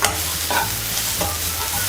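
Garlic cloves and a small piece of ginger frying with onion in a hot pan, a steady close sizzle with occasional stirring scrapes, no voices.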